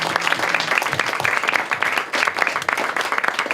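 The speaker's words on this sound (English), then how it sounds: "I'd like to recognize all of you and give you a round of applause." Conference audience at a data consent event breaks into lively applause for its contributors, close and fairly loud, with individual sharp claps standing out from the dense crowd clapping.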